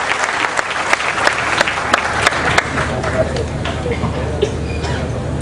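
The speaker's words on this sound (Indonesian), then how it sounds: "Tepuk tangan untuk Bapak Busro." Audience applause greets a speaker taking the stage at an Indonesian evening talk, loud dense clapping with crowd hubbub that swells and then gradually thins.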